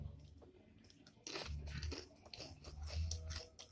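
Crunchy bites into ranch and spicy nacho Doritos chips, several crisp crunches and chewing sounds, close up with no talking.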